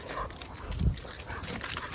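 A German Pointer named Arlo, once a hunting dog, lets out a single brief, low huff-like bark close by, with quiet background noise around it.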